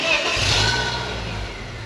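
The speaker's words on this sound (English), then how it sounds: "now this is a cold startup on a 1998 BMW Z3." A 1998 BMW Z3 engine starting from cold, a steady loud mechanical roar and drone throughout with a slight rise in revs early on, heard alone at close range.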